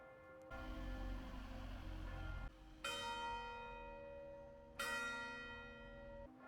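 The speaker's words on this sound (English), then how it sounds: "That clock bell was really loud, I got the shock of my life." A loud clock tower bell in San Marino's old town strikes three times, each tolling peal ringing out and slowly fading before the next, with a low hum beneath.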